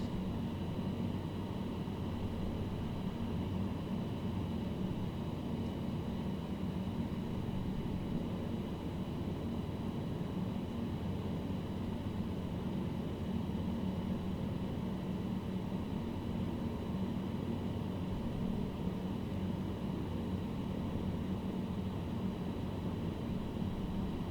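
A small plane's engine in Microsoft Flight Simulator drones at a constant, even pitch throughout, a steady hum with no breaks and no talking.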